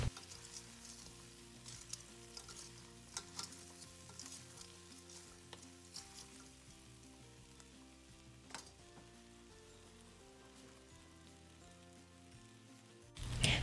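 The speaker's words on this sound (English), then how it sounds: "I'm gonna add my chicken to that veggies and I'm just going to toss it in the vegetables" Lemon pepper chicken wings tossed with vegetables in a hot pan give a steady, soft sizzle with occasional scrapes and taps of stirring, ending in a louder clatter.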